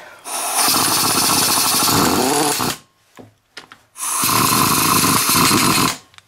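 A John Deere 110 TLB tractor loader backhoe engine cranks in two loud, close, sustained bursts of grinding mechanical roar, separated by a short pause with a few clanks.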